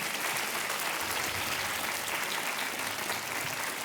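Studio audience applause on the KBC quiz show set, a thick, continuous roar of clapping at full level with no pauses.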